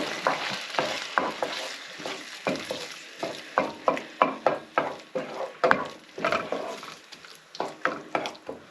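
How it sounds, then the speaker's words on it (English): Chopped garlic and drained vegetables frying in a pan, a soft steady sizzle broken by repeated scraping stirs at a close, moderate level, with no talking. "And I'm going to add some chopped garlic, minced garlic."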